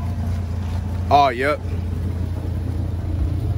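A low, steady exhaust rumble drones close by throughout from a used car bought at a dealer auto auction, with a man's brief remark partway through.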